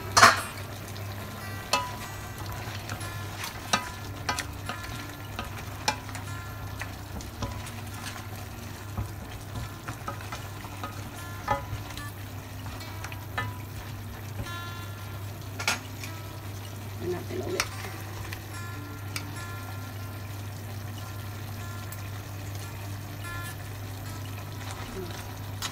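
Food sizzles and fries steadily in a pan and is stirred, giving a scattered run of soft clinks and scrapes over a constant low hum.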